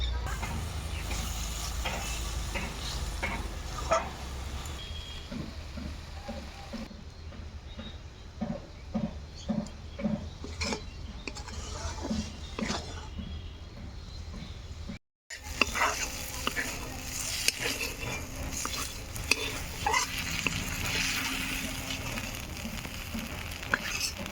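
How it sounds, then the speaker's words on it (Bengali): Fenugreek greens fry in oil in a pan and are stirred, so a soft sizzle runs under repeated scraping and clinking strokes of the utensil, with a brief cut partway and a louder sizzle afterward. "শাকটা ভেজে নেওয়া হয়ে গেছে এই যে শাক থেকে পুরো তেল ছাড়ছে"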